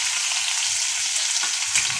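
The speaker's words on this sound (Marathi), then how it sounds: "त्या आपण अशा भाज्या ह्या सर्व परतून घ्यायच्या" Onion, tomato, chili and other vegetables sauté in oil in a pan, giving a bright, close sizzle with soft stirring bumps underneath, brief and steady, with no talking.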